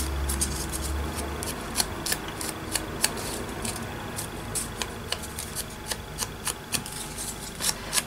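Scissors snip steadily around the outline of a paper cutout of a little boy for a steampunk letter journal page, a close, continuous run of crisp cuts with no voices.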